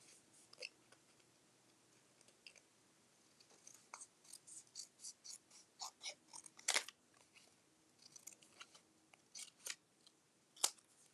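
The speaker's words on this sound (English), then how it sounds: "I'm going to trim this down a little bit more." Scissors trimming a sheet of paper for an ink painting, a close series of crisp snipping cuts, quiet but distinct, in an irregular rhythm.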